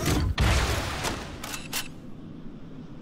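Rocket launcher fire aimed at a tank in Halo: Combat Evolved Anniversary on Legendary difficulty; a sharp launch blast followed by a few distant booming impacts that fade into quiet rumble.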